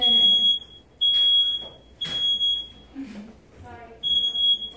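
A smoke detector alarm shrills in loud, repeated bursts of a high piercing tone, cutting off between blasts while people talk nearby in a room.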